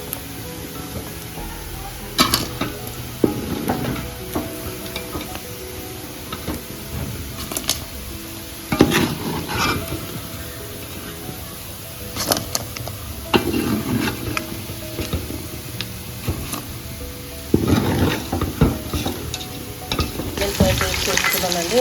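Chicken pieces frying in oil for chicken pachadi, a continuous sizzle broken every few seconds by bursts of stirring and scraping in the pan, close and moderately loud.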